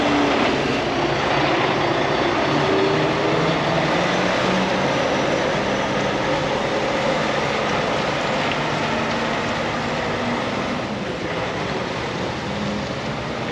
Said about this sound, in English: he's gonna go ahead and pull the truck forward